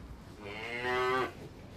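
A single drawn-out cow moo from a farm with a clone-bred herd, fairly faint and mid-distance, rising then holding steady for about a second over quiet rural background.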